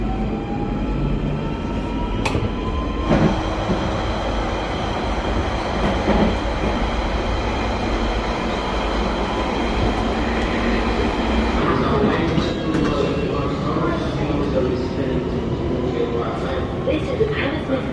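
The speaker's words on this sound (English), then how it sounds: "This is a Hammersmith City Line train." London Underground Hammersmith & City line train, a steady loud rumble of wheels and motors running throughout, with a faint rising whine and brief clatters, and a voice heard over the noise.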